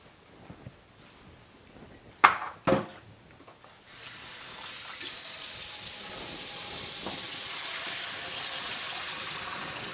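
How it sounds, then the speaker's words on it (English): Water poured off cooked penne pasta into a sink: a couple of clunks from the pot, then a steady hissing gush of draining water that continues to the end. "I'm going to go ahead and pour the water off of the pasta."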